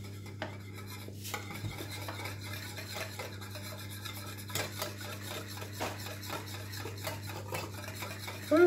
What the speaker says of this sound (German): ein bisschen von dem Grießbrei dazu und rühren